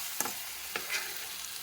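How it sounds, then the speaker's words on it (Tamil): Elephant foot yam gravy with salt sautéing in oil in a pan, a faint steady sizzle broken by two sharp spatula scrapes and a soft stir, with no talking. "இப்போ நல்லா வதக்கி எடுத்துக்கலாம்"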